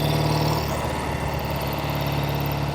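Steady running drone of a 1968 Triumph Bonneville 650 motorcycle engine, a continuous low throaty hum holding constant loudness throughout with no talk.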